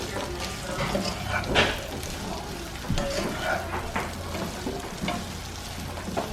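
Food sizzling and simmering in a pan, a steady crackling fry with a few stirring clinks and scrapes, close and moderately quiet, alone without talk.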